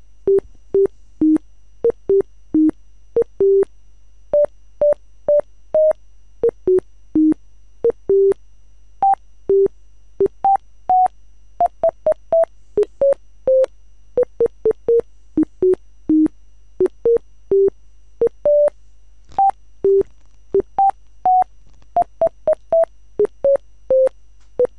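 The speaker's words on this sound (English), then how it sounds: "if we compile it, with the theme tune that sounds like this" A march theme rendered as a sequence of pure computer beeps generated by a SAS Call Sound routine, single tones in the march rhythm with brief gaps, clear and close with no voices.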